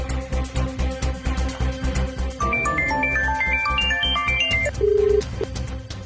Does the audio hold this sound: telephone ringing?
yes